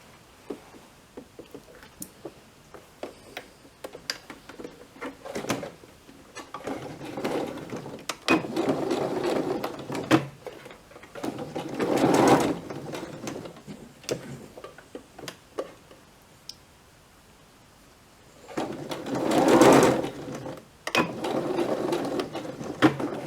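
A sewing machine stitches a seam on a fabric face mask, with irregular mechanical ticking and clicking that swell into a few louder, sustained runs of stitching, close by with no voices.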